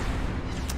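Secondary guns on a warship fire in a naval video game battle, a dense, loud rumbling barrage of overlapping booms with no pause.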